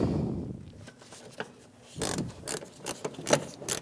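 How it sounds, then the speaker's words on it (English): Ratchet driving a 10mm bolt through the fender of a Chevrolet Malibu, short bursts of rapid close clicking and mechanical rattling separated by brief pauses, fairly faint, no voices. "then I'll put my ratchet on"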